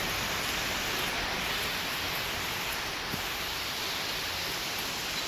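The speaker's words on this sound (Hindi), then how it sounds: "ये है भाई बारिश" Steady rain hisses evenly throughout, a dense wash of falling drops with no pauses or voices.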